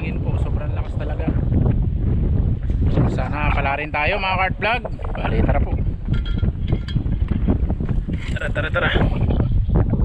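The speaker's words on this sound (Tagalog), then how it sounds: "ang hangin po sobrang lakas talaga" Strong wind buffets the microphone out at sea during a fishing trip, a steady roaring rush under people talking throughout.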